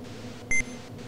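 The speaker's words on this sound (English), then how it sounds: "And what's that beep?" A single short electronic beep from the Amstrad CPC train game Southern Belle, a sharp pure tone sounding once over a quiet low background hum.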